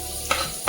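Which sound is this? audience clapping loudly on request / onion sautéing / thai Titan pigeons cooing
onion sautéing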